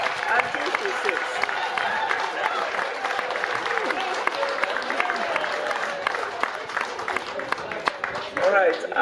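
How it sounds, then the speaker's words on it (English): A seminar audience applauds a panelist, Sister Esther Daka, with steady, dense clapping that continues for several seconds, a voice speaking over it. "can you clap for her until she sits?"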